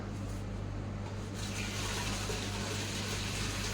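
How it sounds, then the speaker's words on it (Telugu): Hot water pours into a pot for zubaidi rice, a steady low rushing gush that carries on evenly throughout, close but fairly quiet, with no voices. "సరిపడా హాట్ వాటర్ వేసేయండి"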